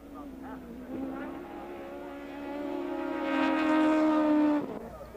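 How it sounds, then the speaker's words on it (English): Race cars at the 1988 SCCA National Championship, one car smoking: an engine note rises steadily in pitch and loudness as a car drives nearer, then cuts off, with commentary voices under it. "Carter finally grabs the lead from a smoking Dentisi"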